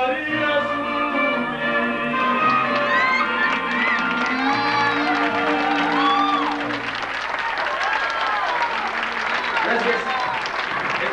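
A 1996 concert audience at a university in El Paso breaks into loud, sustained applause with cheers and whoops as sung music fades, the crowd noise continuous and close.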